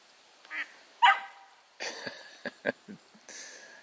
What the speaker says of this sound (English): Sheltie versus ducks.